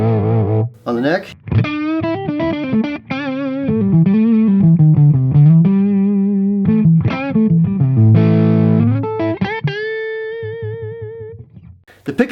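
An Ibanez RG350 MDX electric guitar on its neck pickup, played through overdrive pedals: warm, distorted melodic lines with vibrato-laden sustained notes and bends, loud and close throughout.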